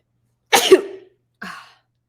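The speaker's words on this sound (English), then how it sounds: "I'm also going to sneeze." A sharp, loud sneeze bursts out close by, followed a moment later by a shorter, softer second burst. No talking.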